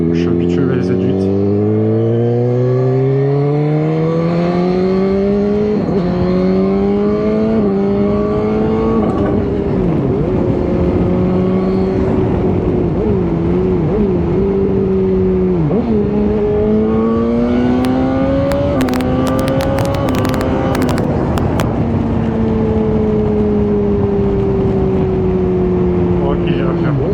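BMW S1000R motorcycle engine and exhaust while riding, the note rising and falling through gear changes at steady road speed, with wind noise and a rider talking over it.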